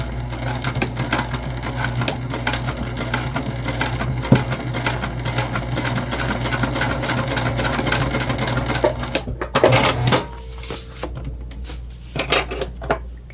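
A sewing machine runs steadily, basting a D-ring connector onto a travel sling bag. The stitching hum is continuous and close, with a brief pause and clatter near the end.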